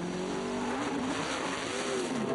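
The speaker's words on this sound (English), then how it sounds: "Got a car spun around here, Steven Wallace." A NASCAR Nationwide Series stock car spun around on the Watkins Glen road course in 2008, its engine droning steadily with a wavering pitch and a faint tire scrub throughout, with no talk over it.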